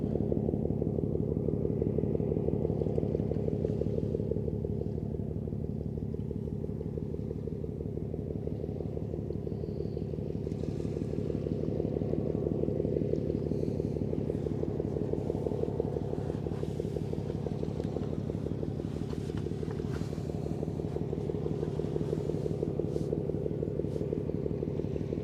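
A passing ship's MAK diesel engine on the Westerschelde near Antwerp and Ghent, a deep, steady, throbbing rumble that holds strong and continuous throughout.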